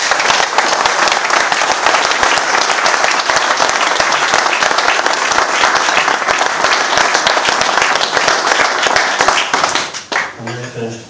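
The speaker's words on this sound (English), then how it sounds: "A standing ovation again" Standing ovation at a Woodstock Golf Club presentation: dense, loud, sustained clapping from a crowd for about ten seconds, then fading out as a voice begins.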